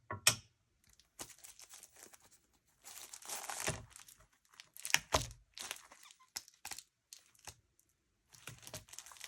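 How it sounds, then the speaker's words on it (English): A paper straw is die cut with a Spellbinders die, producing crisp crinkling, crunching and clicking bursts in irregular clusters separated by short silences, close to the microphone. "I'm gonna die cut my straw."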